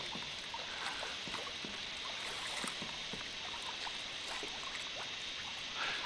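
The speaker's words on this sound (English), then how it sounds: "There's a stream somewhere around here, I can hear it gurgling." A gurgling, trickling stream in a survival video game, a steady faint wash of running water with small bubbling ticks throughout, no voices.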